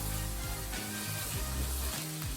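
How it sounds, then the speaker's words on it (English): Cumin seeds sizzling in about a teaspoon of butter with caramelised onions for lamb karahi, a loud, dense, continuous frying crackle close to the pan, with a low thump or two from stirring. "we want to go in now with about a teaspoon of butter, and we're going to add our cumin seeds"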